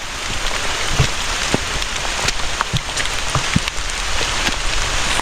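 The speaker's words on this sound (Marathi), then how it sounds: "आता जोराचा पाऊस चालू झालेला आहे." Heavy rain pours down on a muddy mountain trail on the Bhimashankar trek, a dense, steady hiss of drops close by with scattered sharper splashes and no voices.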